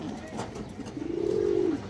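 A pigeon, one of several offered for sale by a breeder, gives a single drawn-out coo that rises and falls near the end, close and clear over a low room murmur.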